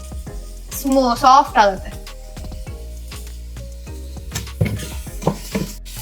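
Besan batter for Uttara Karnataka junka sizzles and is stirred in a pan, with scraping strokes and soft frying hiss under a person talking.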